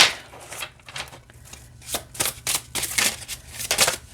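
Linen-finish tarot cards being shuffled up close, a series of soft riffling and slapping bursts in an uneven rhythm, with no talking.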